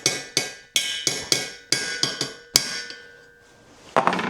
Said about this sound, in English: shock it a little bit with a hammer